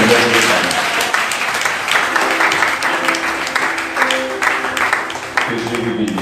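A church congregation applauds and cheers in a steady, dense wash of clapping that runs throughout, with a voice speaking over it.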